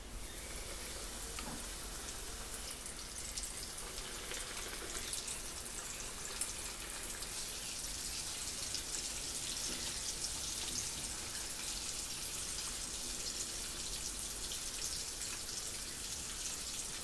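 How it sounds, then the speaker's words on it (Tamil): Oats-coated chicken pieces deep-fry in hot oil for homemade KFC-style fried chicken, giving a steady, close, dense sizzle with fine crackling and popping that holds evenly throughout, with no talk over it. "மிச்சோல எல்லா சிக்கனையும் ஓட்ஸில் கோட் பண்ணி எண்ணெயில் பொரித்து எடுத்துடலாம்"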